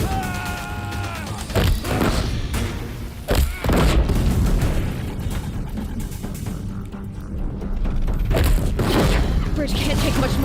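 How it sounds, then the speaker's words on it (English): Deathbringer war machines fire heavy rounds at a bridge in the Horizon Zero Dawn video game, deep booms and crashing impacts rolling one after another under a thick, continuous rumble, with a voice speaking early on. "If the Deathbringers keep firing, this bridge will go."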